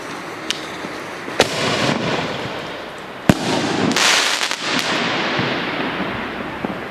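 A firework cake crackles and pops in a steady outdoor barrage in Liuyang, China, with several sharp louder bangs standing out over the continuous fizzing bursts.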